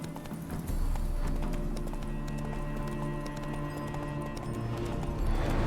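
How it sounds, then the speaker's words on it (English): Geralt's horse Roach in The Witcher 3: Heart of Stone on Nintendo Switch, steady clip-clop of hooves with a whinny, under ambient game music. "Spooking my horse. Roach doesn't like ghosts."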